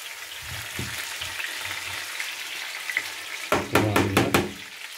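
Cauliflower florets dropped into a hot pan, a soft steady sizzle that suddenly flares into louder crackling frying when the pieces hit the oil.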